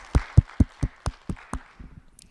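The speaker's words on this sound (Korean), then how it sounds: "우리 받으신 주님께 감사의 박수" Church congregation giving a round of thanks applause after a prayer, heard as about seven sharp, evenly spaced bursts of clapping that thin out into a few softer scattered claps.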